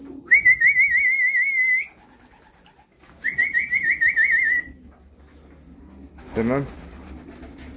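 Racing pigeons returning to the loft after a 203 km race: two long, loud whistling tones in succession, then a short burst of cooing and bird calls near the end, with a brief spoken word.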